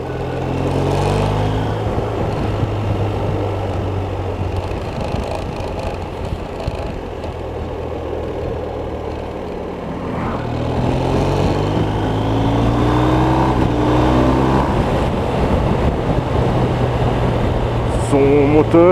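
A BMW R1250RS motorcycle engine drones and rises in pitch as it accelerates, a steady loud roar with wind rushing past during the ride.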